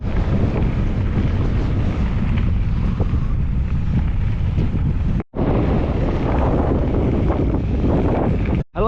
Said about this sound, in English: I'm hoping this wind is favourable. It's very blustery, that's for certain.